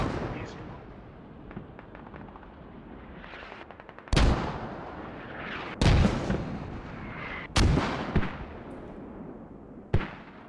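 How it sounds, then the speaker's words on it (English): Incoming mortar rounds in the Squad military shooter, several heavy booming impacts spaced a couple of seconds apart over a low rumbling battlefield background. "More mortars coming in."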